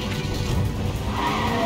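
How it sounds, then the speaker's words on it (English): A car driving in the Fortnite video game, loud engine roar with tire skidding and squealing throughout the short stretch, no talk. "Kido, hop in the car"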